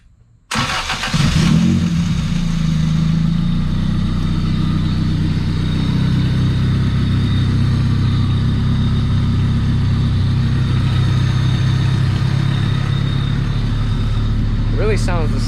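A Honda Civic EF hatchback engine cranks briefly and catches, then settles into a steady, loud idle that holds unchanged for the rest of the clip, close to the car.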